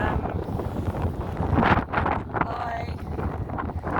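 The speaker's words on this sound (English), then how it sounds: "it's a bit blustery here over at Blackheath Common" Gusty wind on Blackheath Common in Greenwich buffets the microphone in heavy rumbling bursts, loud and close, rising and falling over a few seconds.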